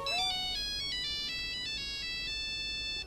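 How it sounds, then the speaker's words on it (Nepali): A phone rings with an incoming call from home, a loud, close electronic ringtone melody playing alone in stepped repeating notes for about three seconds. "उहाँको घरबाट अचानक बुवाको फोन आउँछ"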